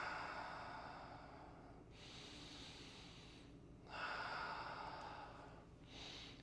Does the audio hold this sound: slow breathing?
yes